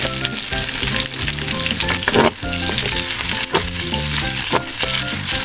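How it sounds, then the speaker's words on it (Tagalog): Squid and onion fry together in a pan for adobo pusit, making a loud, continuous sizzle up close, with music-like tonal layers running over it throughout. "Pwede nyo na siyang pagsamahin sa gitna ng kawali hanggang sa maluto ang sibuyas"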